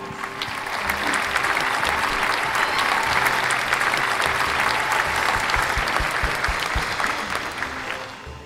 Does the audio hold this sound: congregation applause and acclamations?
yes